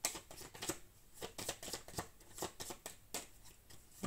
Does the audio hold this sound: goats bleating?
no